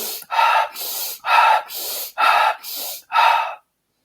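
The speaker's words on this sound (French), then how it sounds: "on peut avoir ce type de respiration comme ceci." Deep, forceful Wim Hof method breathing: seven rhythmic inhale and exhale cycles, loud and close, each a long rushing breath separated by brief pauses, with no talk.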